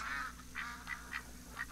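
Mallard ducks quack in The Hunter: Call of the Wild, a run of bursts from an agitated flock: one long call, then several shorter quacks at uneven intervals, moderately close over a steady low hum.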